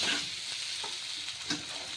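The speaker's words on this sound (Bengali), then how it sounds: "এবার আমি আগে থেকে ভেজে রাখা আলুগুলি দিয়ে দিচ্ছি এবার এগুলি একটু ভালোভাবে কষিয়ে নেব" Pre-fried potatoes sautéed in spice masala for a vegetarian bottle gourd dish, producing a continuous close sizzle with soft spatula scrapes and a sharper stir near the end.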